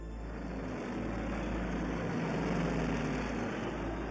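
Allied bomber airplanes fly overhead, a dense, continuous propeller-engine drone that stays loud and steady throughout with no voices.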